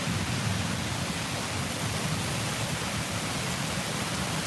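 Heavy rain pouring down during a summer storm at a front porch in Tulsa, Oklahoma, a dense, even hiss that holds steady and loud throughout, with no voices.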